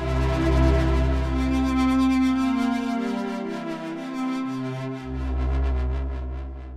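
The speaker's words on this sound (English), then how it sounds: "first effect is a mono delay, which sounds like this" Prophet Rev2 synthesizer playing sustained chord tones through a mono delay effect, a steady, loud pad with repeating echoes smearing each note, a brief drop in the low end midway before the bass returns.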